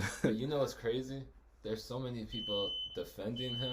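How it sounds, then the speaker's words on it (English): A thin, high electronic beep tone sounds for about half a second, then cuts off again, faint beneath a man's ongoing speech. "Sorry for that random beeping noise"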